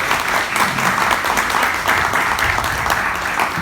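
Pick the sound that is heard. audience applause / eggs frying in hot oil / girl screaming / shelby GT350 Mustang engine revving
audience applause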